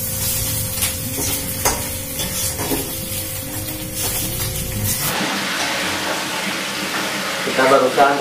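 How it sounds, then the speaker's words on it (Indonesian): Balado spice paste fries and sizzles in a pan in a home kitchen after tofu and tempeh were fried, a steady close crackle with spatula stirring and scraping, then a brighter hiss as the paste hits the hot oil. "jadi sekarang kita mau goreng bumbunya ya"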